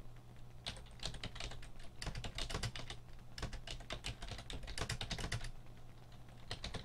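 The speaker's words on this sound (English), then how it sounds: "And then I'm just going to start typing." Steady, quick typing on a computer keyboard, close and clear, with bursts of rapid key clicks and brief pauses.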